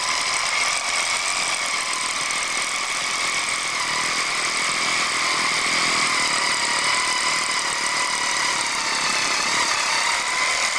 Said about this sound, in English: have it as straight up and down or as perpendicular to that deck as we can get it, and go ahead and drill the hole